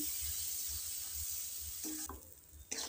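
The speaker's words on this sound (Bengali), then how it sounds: "এটাকে এবার ভালো করে একটু নেড়ে দিচ্ছি আমি।" Pea kachori filling with salt, sugar and turmeric is stirred in a pan, making soft scraping strokes in a regular rhythm over a quiet sizzle. The stirring stops briefly near the end.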